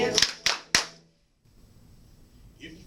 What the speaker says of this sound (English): If you really love to read, clap your hands.